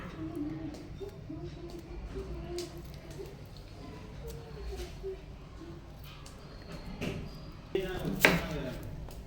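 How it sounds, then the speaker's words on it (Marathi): A knife chops small onions on a cutting board in a home kitchen, with repeated soft taps and a few sharper knocks near the end, while someone talks over the cutting. "कांदे कट करून घ्यायचे."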